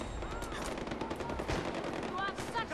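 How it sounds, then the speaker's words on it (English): Gunfire in the video game Far Cry 4, a dense stream of rapid shots and bursts that runs the whole time, mixed with game noise and a voice talking over it. "They're shooting at dirt."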